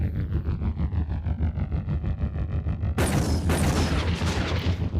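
Rapid aircraft cannon fire from a flight video game strafing targets, a dense continuous rattle of booming shots over a droning engine, growing louder and harsher midway, with no talking.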